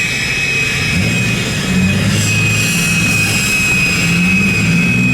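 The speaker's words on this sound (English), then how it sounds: "We got a jet getting ready to take off in the parking lot." A jet revs up before takeoff near a parking lot during a winter car event, giving a loud, steady roar with a piercing high whine that stays constant throughout, no voices present.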